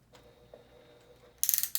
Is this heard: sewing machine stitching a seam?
yes